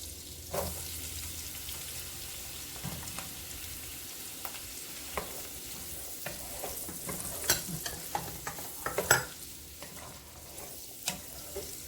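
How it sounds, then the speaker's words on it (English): Bell peppers and onion sizzle and fry in a pan for fried cabbage, with steady crackling and repeated scraping stir strokes of a utensil against the pan, close and moderately loud, no talking. "I'm also going to put my bell peppers in."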